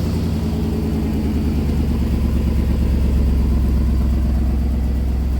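A Chevy 2500HD pickup truck with about 140,000 miles, its engine running steadily at a constant idle, close and loud, with a smooth low rumble and no talking.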